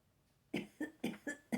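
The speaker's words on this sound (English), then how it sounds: "Excuse the coughing." A person with COVID coughs five times in a steady, evenly spaced run of close, fairly loud hacking bursts after a brief quiet start.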